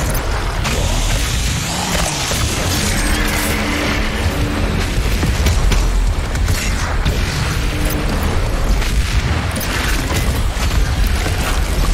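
Rockets burst in a dense, loud barrage in the video game Anthem, with booms and mechanical clatter running continuously beneath a constant roar.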